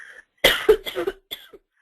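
A burst of several harsh coughs close by, followed by a short throat-clearing, then quiet.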